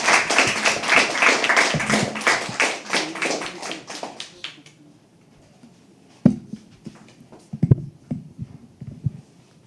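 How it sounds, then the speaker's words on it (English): Audience at a live poetry open mic clapping steadily and loudly for about five seconds, then the applause dies away, leaving a quiet room with scattered claps, taps and small thumps. "you have to keep clapping till she comes on stage."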